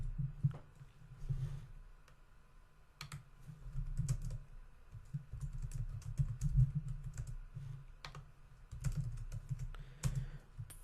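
Keystrokes on a computer keyboard clatter in irregular bursts with short pauses, close and fairly quiet, no voices.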